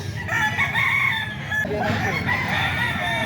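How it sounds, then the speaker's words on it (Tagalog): A Red Kelso rooster crows loudly and close, a long drawn-out call followed by another, over a busy background of other birds clucking. "Ito mga ka-idol, manok ni Boss Albert"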